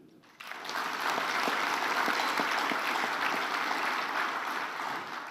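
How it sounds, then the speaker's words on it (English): Ballroom audience at a conference closing and awards ceremony breaking into applause for the tech team, sudden onset then sustained, dense clapping that slowly tapers, with no talk. "please join me in a round of applause for Encore, our tech team"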